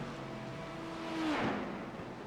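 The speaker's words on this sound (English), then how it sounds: "Another GT3 car just ahead, our Mercedes." A Mercedes GT3 race car in a racing video game, its engine droning steadily with a rising pitch sweep and a swelling pass midway before settling back, heard alone with no voices.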